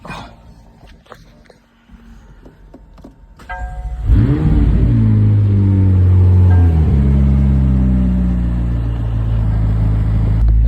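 A McLaren sports car on a midnight run roars to life about a third of the way in: its engine revs loud and close, then holds a strong, sustained growl to the end after quieter shuffling beforehand.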